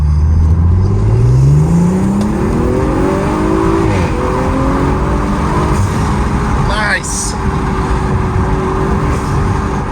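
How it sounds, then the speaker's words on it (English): Audi RS5 with a carbon fiber intake, its turbo engine accelerating hard through rising revs from inside the car, loud and close, with turbo whine and a sharp whoosh near the end, and a brief remark spoken over it. "You can hear the turbo spool and the blow-off. I'm gonna really get on it right here."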